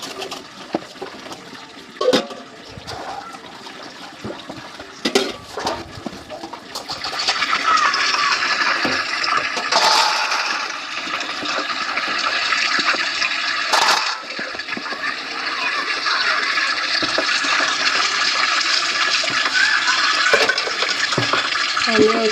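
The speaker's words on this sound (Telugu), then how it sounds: "సామాన్లు అయితే నీట్గా కడిగేసుకుంటున్నానండి" Dishes are washed at a home sink with a few scattered clinks and knocks at first, then a steady rush of running tap water that carries on to the end, close by.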